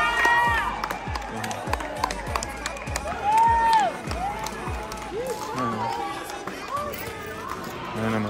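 A crowd claps in a steady rhythm, the sharp claps recurring evenly under loud chatter and cheering, while nearby people keep talking.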